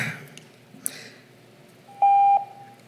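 A single steady electronic beep of about half a second sounds as a public-comment timer signal at a school board meeting, clear over a quiet room with faint background noise.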